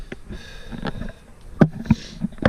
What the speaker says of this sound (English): I got these sniffles this morning.